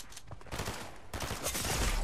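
Rapid bursts of gunfire from a shooter video game, loud and dense across the whole stretch, with repeated shots running together.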